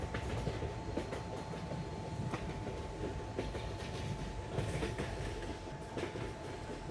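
A WAP7 electric locomotive train rolls past in Indian Train Simulator, a steady loud rumble with faint rhythmic wheel clicks and a constant tonal hum throughout, no voices.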